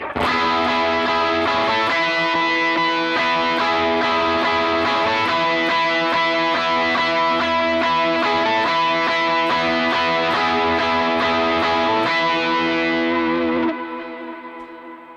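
Distorted electric lead guitar plays a driving chorus part of steady repeated downstrokes with echo and chorus effects, loud and continuous, fading at the end.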